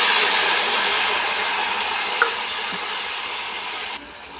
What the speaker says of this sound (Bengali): এবার আমি পেঁয়াজ বাটাটা দিয়ে দিচ্ছি।